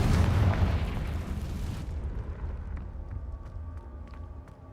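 A Confringo blasting spell explosion in the video game Hogwarts Legacy, one loud roaring boom up close that rumbles and decays into quieter debris and ambient noise.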